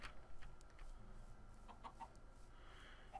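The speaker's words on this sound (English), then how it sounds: "Should I get a name tag and name one of these chickens Chippy?" Minecraft chickens clucking softly in the background, a few faint, brief clucks scattered across a quiet in-game scene with low ambient noise.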